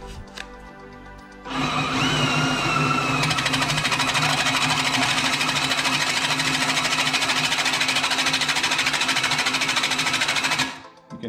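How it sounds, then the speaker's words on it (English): A loud, steady mechanical grinding and whirring as an Allett Kensington 20H cylinder mower is backlapped with grinding compound between bed knife and cylinder; starts abruptly, runs continuously for several seconds, then cuts off, with dense buzzing rattle throughout. "You can hear the grinding as this grinding compound is hitting between the bed knife and the cylinder."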